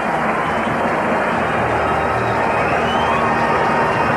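Dense stadium crowd roar from a 1985 NFL game, Philadelphia Eagles at Minnesota Vikings in Minneapolis, a steady broad wash of voices rising and livening throughout without a break.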